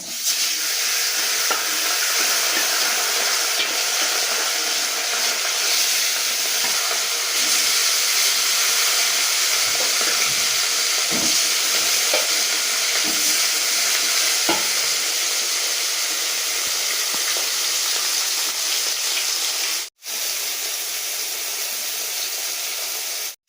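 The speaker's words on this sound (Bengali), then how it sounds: "এবার মাছটা আমি একে একে গরম তেলের মধ্যে দিয়ে দিচ্ছি।" Steady, loud sizzling of rohu fish frying in hot oil, a continuous crackling hiss close up with occasional pops, briefly cutting out near the end.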